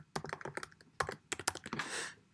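Quick, uneven bursts of keystrokes on a computer keyboard while Java code is entered, close and clear with no talking over them.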